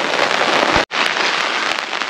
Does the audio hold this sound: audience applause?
no